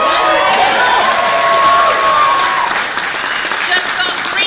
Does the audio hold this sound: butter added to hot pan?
no